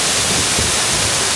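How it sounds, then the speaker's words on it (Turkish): A waterfall in Serbia rushes in a loud, steady, close-up roar of falling water for a brief moment, with no voices. "Şimdi de şelaleye geldim."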